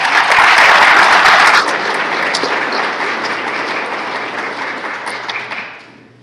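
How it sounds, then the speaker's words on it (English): Loud clapping from an audience honoring staff at a Disability Awareness Month kickoff event, strongest for the first second and a half, then a steady, softer round that gradually tapers off. "So could you please give them a round of applause?"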